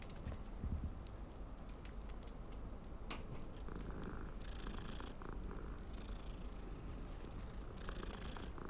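A cat in Hogwarts Legacy purrs steadily while being petted, a low rumbling drone heard close and quiet, with faint game ambience behind it.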